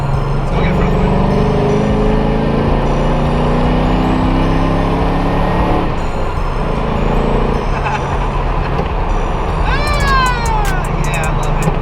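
A Nissan 350Z drives along with a steady engine drone and road noise, heard from inside the car, with a few brief squeaks near the end.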